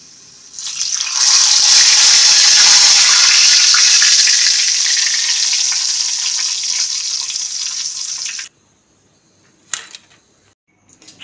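Water poured into hot oil in a pan of frying banana chips bursts into a loud, steady hissing sizzle that lasts several seconds, then cuts off abruptly, followed by a couple of faint clinks.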